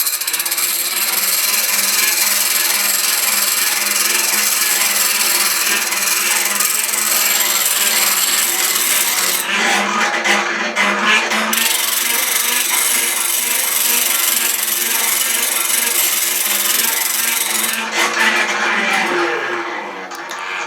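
A vintage hand-cranked bench grinder sharpens a cold chisel, giving a steady, loud abrasive grinding that runs almost unbroken, with brief changes in tone as the work shifts on the wheel.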